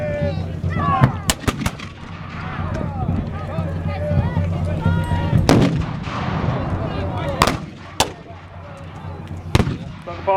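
Artillery cannons firing during a battle reenactment of Parliamentarian and Royalist forces, several sharp loud booms spaced a few seconds apart over a continuous rumble of engine and crowd noise, with voices talking throughout.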